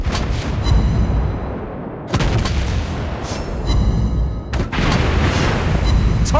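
Heavy naval gunfire and shell impacts from a German Tier 5 cruiser, the Königsberg, in World of Warships Blitz: loud, dense booming salvos in several bursts with rumbling low-end between them, no talk.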